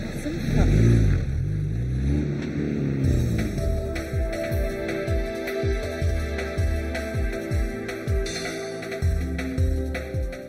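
A 1998 Noble M10 sports car pulls away, its engine revving through repeated rising sweeps as it accelerates and shifts, loud and close at first then steady.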